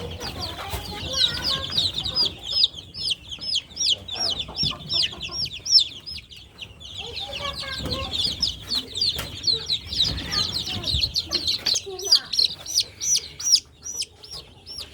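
Young chicks keep up dense, high-pitched peeping while hens cluck lower beneath them, in a busy poultry setting with occasional rustling and no speech.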